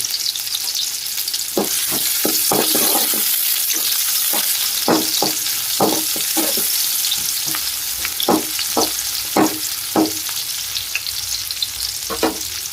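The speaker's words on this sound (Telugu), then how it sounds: "ఆయిల్ వేడైన వెంటనే ఉల్లిగడ్డ వేసుకోవాలండి." Onions frying in hot oil for a hotel-style chicken roast, a continuous close sizzle broken by clusters of sharp spatula scrapes and taps as they are stirred, no speech.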